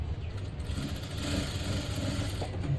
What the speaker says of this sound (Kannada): ಕರೆಕ್ಟಾಗಿ ಹಿಂಗೆ ಇಟ್ಕೊಂಡು ಸ್ಟಿಚ್ಚನ್ನು ಹಾಕ್ಕೊಂಬಿಡೋಣ